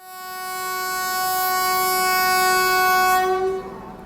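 A train horn sounds in one long, loud, sustained blast that swells and then fades, as the train departs Ludhiana station over a low rail rumble.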